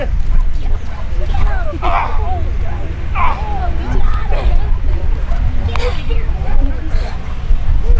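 A police dog barks and yips during an apprehension demonstration at a village festival, the sharp calls rising over a steady crowd murmur while people talk nearby.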